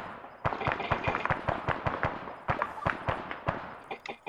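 Gunfire in the video game Arma 3 on Tanoa, with a rapid series of sharp, moderately distant shots in an uneven rhythm, some spaced singly and others in quick clusters.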